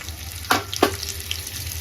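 Mustard seeds and chopped green chillies crackle in hot tempering oil, with two sharp sizzling spurts close together and then a low steady hiss.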